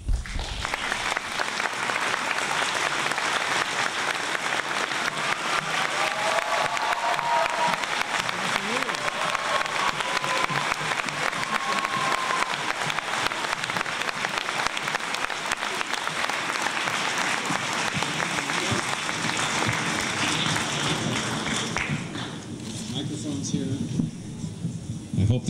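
An audience at the Sustainia presentation with Arnold Schwarzenegger, Connie Hedegaard and Terry Tamminen gives dense, sustained applause to welcome the speakers. It is loud and continuous for over twenty seconds before thinning slightly at the end.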